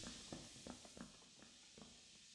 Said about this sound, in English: I hear footsteps in this other room.